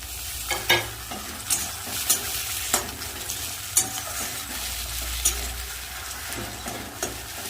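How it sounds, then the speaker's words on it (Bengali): Chopped tomato dropped into onions already fried until reddish, then stirred in a hot pan, with a continuous sizzle and repeated scraping and knocking of a spatula against the pan. "পেঁয়াজটা লাল লাল করে ভেজে নিয়েছি এবার দিয়ে দেব কেটে রাখা টমেটো"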